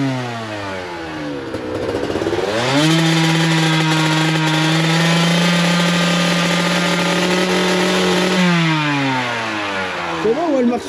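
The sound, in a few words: kart engine revving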